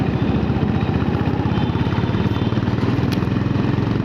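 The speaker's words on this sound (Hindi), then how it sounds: "अब यहाँ थोड़ा बाइक खींच देता हूँ।" A motorcycle engine pulls steadily on an open city road under a metro flyover, a dense, close, continuous thrum with a rapid pulsing beat and wind rush, no voices.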